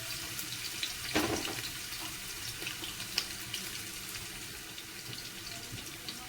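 Onions fry in oil for Kerala-style chicken biryani, a steady close hiss and sizzle with light crackles and an occasional clink throughout.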